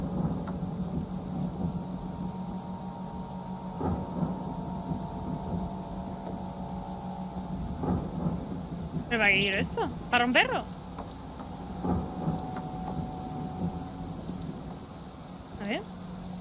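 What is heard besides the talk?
rain and thunder from the video game Kraven Manor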